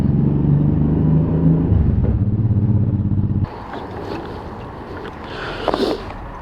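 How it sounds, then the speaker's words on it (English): A 1994 Honda Shadow VT 1100C cruiser motorcycle being ridden near a building, its engine giving a loud low rumbling drone that shifts pitch, then drops off abruptly to a quieter, rougher background with brief clatters. "the bike is a 1994 Honda Shadow VT 1100C."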